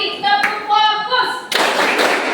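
A classroom focus clap: a teacher and pupils chant a rhythmic pattern, then a burst of sharp, close hand claps from the group.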